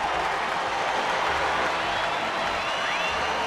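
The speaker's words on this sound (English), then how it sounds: "listen to the crowd" Crowd at a baseball game between Atlanta and Los Angeles, a steady distant roar of cheering and clapping filling the stadium.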